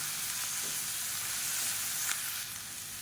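Onions with ginger-garlic paste fry in a pan for paneer gravy, a steady, close, hissing sizzle with faint stirring scrapes and no voices.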